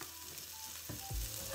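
Vegan sweet potato and butternut squash curry ingredients frying in olive oil, giving a loud close sizzle with a couple of low thuds and scrapes as the pan is stirred.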